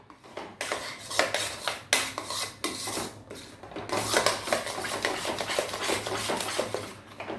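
A spoon mixes a white sauce base with salt in a pan, making continuous close scraping and rubbing strokes with occasional clinks against the metal.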